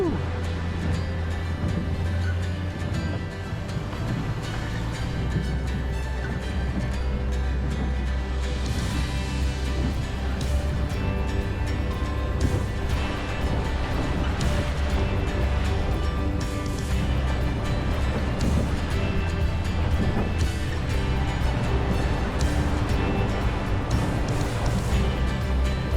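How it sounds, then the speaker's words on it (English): A small boat rides up and down over ocean waves along the Sanriku Coast in Iwate, its engine droning low and continuous with broadband water wash and slapping swells throughout, while people talk and exclaim over the noise. "We're going up and down on these waves."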